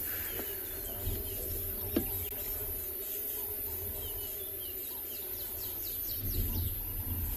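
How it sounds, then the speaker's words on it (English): Many birds chirp and call faintly in the distance outdoors at sunset on a Tswalu safari, near a buffalo carcass in water, repeated scattered tweets over a steady background hum. "You can hear there's also a lot of birds around us."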